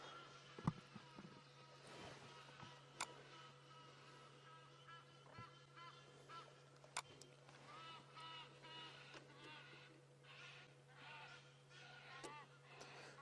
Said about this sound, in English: Some Egyptian geese calling in the background, flying over the dam.